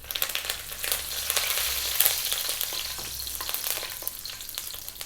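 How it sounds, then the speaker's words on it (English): Fresh curry leaves and spices with red chili and black pepper crackle and spit loudly in hot coconut oil on fairly high heat for a fish curry, a steady dense sizzle with sharper pops throughout and no voices. "We're now going to drop in the fresh curry leaves."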